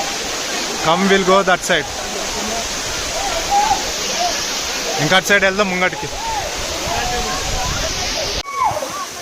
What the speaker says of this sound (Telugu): మొత్తం వాటర్ ఫాల్ అన్నమాట